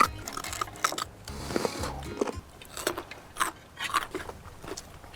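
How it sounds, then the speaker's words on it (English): Someone biting and chewing a crisp apple up close, with sharp crunches scattered irregularly between softer chewing and crackling, mixed with faint background noise. "옆에서 소리 들으니까 이제 사과 먹는 소리"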